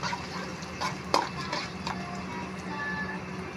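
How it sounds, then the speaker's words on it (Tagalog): Onions sautéing in a pan for Filipino pork paksiw, with a steady low sizzle, a spoon stirring and clinking against the metal, and one sharp clank partway through. "ilalagay na po natin ang ating sibuyas"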